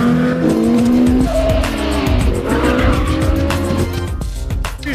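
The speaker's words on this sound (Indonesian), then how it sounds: "Dan Sylvain langsung gaspol melawan mobil supercar itu." Supercars race on a circuit with loud, sustained engine revving, shifting pitch and sharp tire squeals, a dense continuous roar with no talk.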